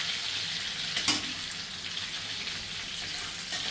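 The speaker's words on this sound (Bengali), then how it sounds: "লঙ্কা সেই তেলের মধ্যে আমি ফোড়নগুলো দিয়ে দেব" Dried red chilli, bay leaf, whole cumin, crushed cardamom and cinnamon dropped into hot oil for tempering prawn malai curry, a loud, continuous crackling sizzle with a sharp burst near the start, close and unaccompanied.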